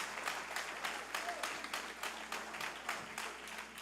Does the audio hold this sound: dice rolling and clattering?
no